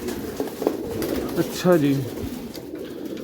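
Pigeons in a loft coo close by, one clear rolling coo standing out over a brief spoken word and soft background rustling.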